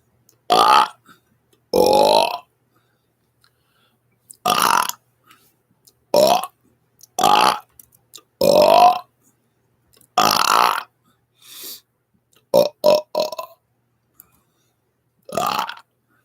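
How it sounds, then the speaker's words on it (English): Rapid-fire burps erupt in a series of about a dozen loud, short bursts spaced irregularly, each one a throaty belch standing alone with silence between. "Same goes for my rapid fire burps."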